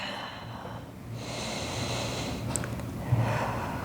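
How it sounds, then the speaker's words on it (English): A deep breath is drawn in and let out through the nose while holding an aerial yoga stretch, a soft airy inhale followed by a longer exhale, close and quiet. "let's have one more breath here"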